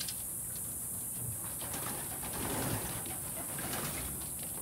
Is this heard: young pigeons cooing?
yes